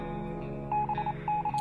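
Radio beeping mistaken for Morse code: a steady tonal hum with intermittent short electronic beeps pulsing over it, no voices.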